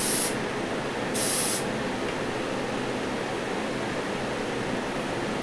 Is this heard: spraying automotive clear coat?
yes